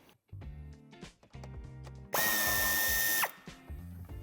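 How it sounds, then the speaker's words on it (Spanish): A power tool zips out a corner screw on an Audi A3 sedan bumper, a loud steady whir of about one second standing out between quieter clicks and clunks of handling up close, with no talking. "quitaremos el tornillo de la esquina."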